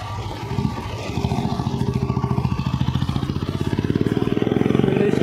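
A motorcycle heading out on a ride near Khordha, its engine thumping in a steady rapid pulse that rises and grows louder after the first second, close and continuous with no talk.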